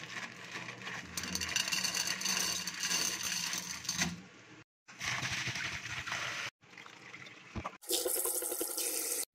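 Mung beans being washed under a running tap, a rushing, splashing water stream in several bursts with short pauses between, close and moderately loud.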